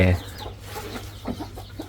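Hens on a chicken farm, one laying eggs, cluck in short close bursts over a low steady background hum.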